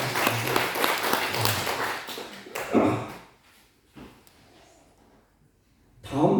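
A church congregation breaks into applause during a Sunday morning worship service, a dense, loud wash of clapping for a few seconds that then drops away into a quieter room.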